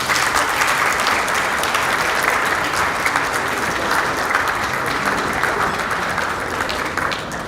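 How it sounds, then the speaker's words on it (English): Loud, sustained applause from a conference audience affirming a peace charter, a thick uninterrupted wash of clapping that eases slightly at the very end. "let us affirm it with some applause"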